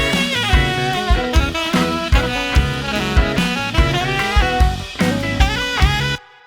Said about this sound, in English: Then if I bring in the plate and the mono delay and the stereo delay,